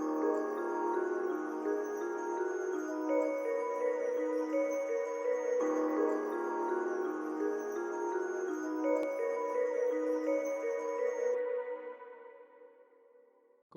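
A dark trap melody built in FL Studio layers sustained reverb-washed keys with a high, thin lead line, drifting through slow note changes before tapering off, moderately quiet with no talking.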